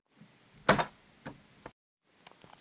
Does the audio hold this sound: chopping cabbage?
no